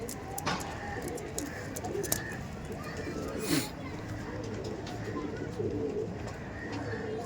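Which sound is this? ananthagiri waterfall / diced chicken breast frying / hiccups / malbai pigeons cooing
malbai pigeons cooing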